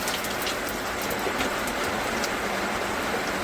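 Steady, dense rain pattering on a surface, a continuous hiss with scattered drops, close and fairly loud throughout.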